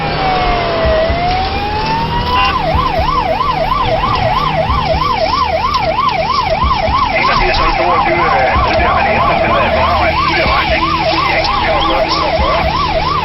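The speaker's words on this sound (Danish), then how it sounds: "efter jeg har aktiveret udrykningssignalerne" A Danish police car's emergency siren wails during a pursuit through Hørsholm and Kokkedal, loud and close, shifting from a rising tone to a fast, steady yelp over road noise.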